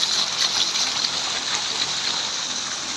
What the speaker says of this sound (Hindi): कैसे पानी आ रहा है बारिश का छत तक।